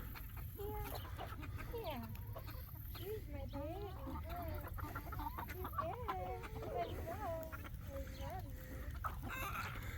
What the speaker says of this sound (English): we have a Brahma rooster. He's gonna be huge.